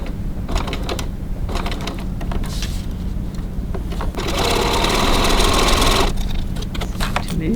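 A sewing machine runs in short, quick bursts while back tacking stitches on a wallet, then sews steadily for a couple of seconds before stopping, with rattling handling noises between runs; loud and close.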